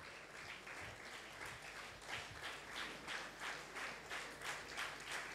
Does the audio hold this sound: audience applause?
yes